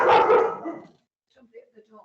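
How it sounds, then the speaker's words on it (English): A dog barks several times, close and loud, inside a home during an online council licensing meeting. The barking fills the first second, then fades into quieter talk. "I apologise for my dog."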